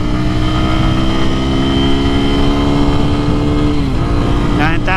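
An Amazon X-Pro motorcycle, KPM 200 or Hawk 250 DLX, accelerates hard toward top speed at about 9,000 RPM in traffic, its engine note climbing steadily and loud throughout, with wind and road noise constant underneath.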